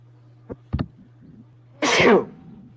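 A single sharp sneeze bursts out near the mic, preceded by a couple of soft clicks and a low steady hum underneath.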